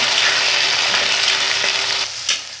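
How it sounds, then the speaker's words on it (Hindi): Green peas fry with onions in a pan, making a loud, steady sizzle with stirring noise. The sound drops off toward the end, broken by a brief scrape. "तो अब हम लोग इसमें मटर डाल लेंगे, और मटर को भी अच्छी तरह से हम लोग भून लेंगे"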